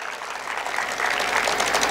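An audience at a Marathi historical speech about Sambhaji Maharaj claps loudly and continuously, a dense wash of hands that swells slightly partway through.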